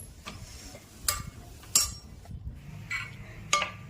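Poha served from a pan onto a plate with a spoon: sparse, close metallic clinks and scrapes of utensil against cookware, a few sharp taps spaced irregularly over a few seconds, no talking.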